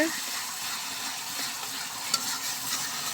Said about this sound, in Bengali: এখন আমি অল্প কিছুক্ষণ মশলাগুলা কষিয়ে নেব।